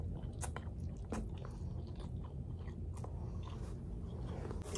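Mutton fry biryani being eaten up close, with steady chewing and occasional crunchy bites over a constant low background hum, no talking.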